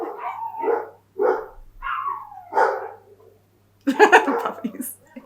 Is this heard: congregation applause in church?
no